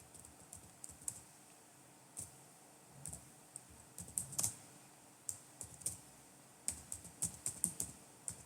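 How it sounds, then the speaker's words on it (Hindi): Typing on a computer keyboard, with irregular bursts of light key clicks and taps that build into quicker runs toward the end, close and fairly quiet, with no voices. "तो मैं टाइप कर देता हूं यहां पर"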